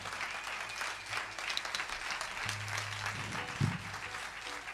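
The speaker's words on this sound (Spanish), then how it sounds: "Ese aplauso es para cada una de las personas que hizo que Tindaya esté protegida." A concert audience applauds at an outdoor Canary Islands Day show, a dense wash of clapping held at an even level from start to finish, with a few low thumps underneath.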